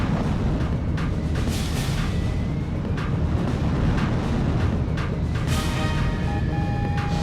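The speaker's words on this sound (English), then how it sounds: "Those flak guns. Fox 2. No, target the flak guns. They're the ones that are causing the explosions." Flak guns burst in the video game Ace Combat 4, a dense continuous roar of explosions with sharp cracks scattered throughout, loud and unbroken across the whole stretch.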